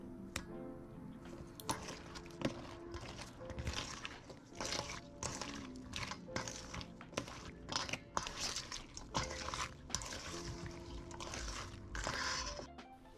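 Candied walnuts being stirred and mixed into a mayo-based sweet sauce in a bowl, producing a steady run of wet squishing, crunching and scraping sounds that carries on without a break, close and moderately loud.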